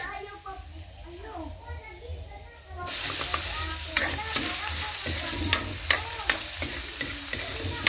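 Garlic and onion sizzle and fry in a hot pan, starting abruptly after a quiet opening with a few faint voices, then a steady loud crackle with occasional stirring scrapes.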